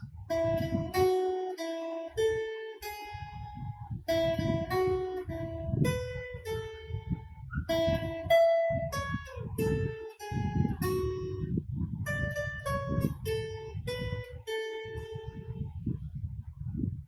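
A guitar plucks a simple melody, single notes ringing out in a repeating phrase at a steady, unhurried pace, with no talking.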